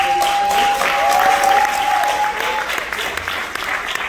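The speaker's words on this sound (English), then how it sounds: "Give yourselves a round of applause." A graduation audience at a class of 2023 Black graduation celebration applauds in a sustained, full burst of clapping and some cheering, with a steady pitched tone running briefly through it.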